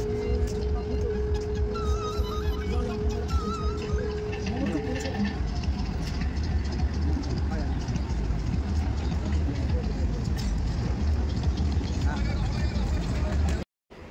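A passenger launch boat's engine runs at a steady, low rumble for the whole ride, with people talking over it.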